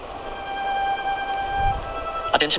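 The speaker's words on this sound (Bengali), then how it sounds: "গাড়ি চলছে হর্নের আওয়াজ" Outdoor street traffic with vehicles passing steadily at middle distance, a few sustained horn tones holding throughout, and a burst of sharper honks near the end.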